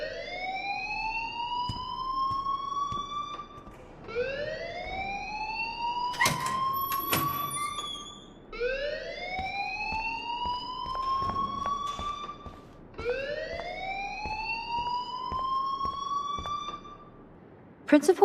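Rising, whooping alarm siren in the video game Life is Strange, four long sweeps in a steady cycle, with brief clattering sounds and voices in the background.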